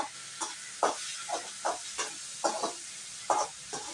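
Chicken gravy ingredients sautéing in a pan, soft sizzling broken up by rhythmic scraping stirs, about nine short hissy strokes at a steady pace, close and clear with no voices.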